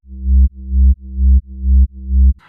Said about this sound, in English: Let me play the bass I made.